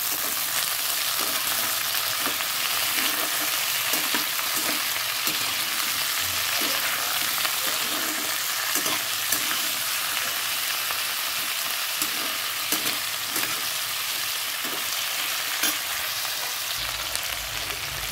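Tomatoes frying in a hot pan, a loud, constant hiss with crackling pops and intermittent spatula scrapes, heard up close with no talking.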